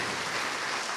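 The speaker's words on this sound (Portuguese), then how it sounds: "Aplauda glorificando." Church congregation clapping in praise during a Portuguese-language sermon, a brief, steady wash of many hands, fairly loud and continuous, with no voices on top.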